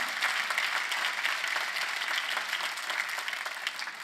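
A church congregation applauds during a sermon, a sustained crowd of clapping hands that runs continuously at an even level before easing slightly toward the end.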